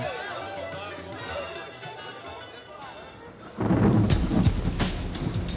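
Thunderstorm with rain at a lake campsite in the mountains at night: a rolling rumble with steady patter, then a sudden loud, dense downpour and thunder crash that dominates the second half.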